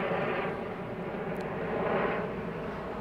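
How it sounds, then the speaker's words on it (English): A helicopter flies fairly low over a suburban street in Morley, Perth, Western Australia, making a continuous loud droning rumble that holds steady throughout. "And there's that helicopter again."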